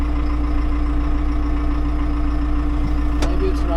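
A John Deere 6330 tractor engine with an Alamo boom mower runs at a steady idle throughout, a constant low rumble with a brief rising note near the end.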